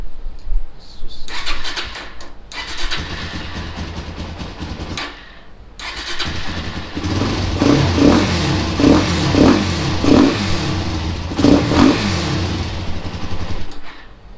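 A Suzuki DRZ400SM motorcycle engine, running with no exhaust fitted, cranks in short bursts before catching and revving in a string of sharp, raw blips, loud and close, with a voice speaking over parts of it.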